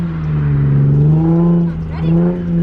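A drift car's engine idles and revs, a steady loud motor drone whose pitch rises and dips, with voices audible over it.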